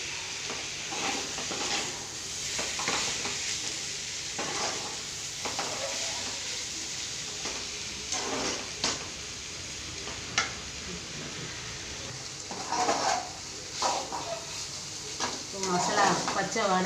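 Masala with coconut and cumin frying in a pan on a home stove, stirred with a spoon: a soft steady sizzle under repeated scraping and clinking strokes, with quiet talk in the background.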